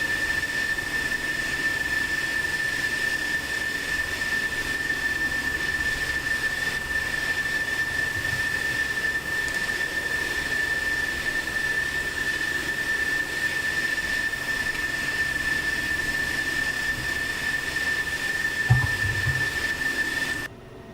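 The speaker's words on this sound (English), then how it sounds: "they're refueling the aircraft right now" Steady, loud drone of an F-16 parked for refueling in the DCS combat flight simulator, a constant whine held over a broad rumble, with a brief thump near the end before it cuts off.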